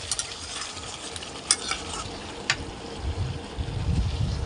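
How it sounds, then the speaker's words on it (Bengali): Hot water poured into chicken curry cooking with potatoes in a pan: a soft sizzle with stirring clinks, then a rising, rumbling gush of pouring liquid over the last second and a half, no talk. "এবার আমি এর মধ্যে গরম জলটা ঢেলে দেবো"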